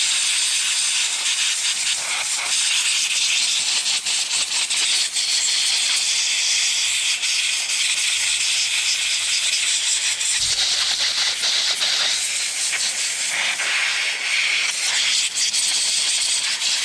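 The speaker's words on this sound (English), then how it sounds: "I know not everybody has a commercial air compressor, but I do." A commercial air compressor blows a steady, loud, hissing jet of air through an AR-15 9mm rifle during cleaning, sustained almost unbroken throughout with no talk.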